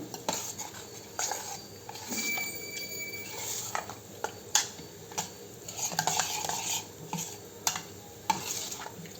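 A spoon scrapes and clinks steadily in a bowl of thick wheat rava idli batter as water is mixed in, with repeated stirring strokes and soft wet sloshing, close up, no talking.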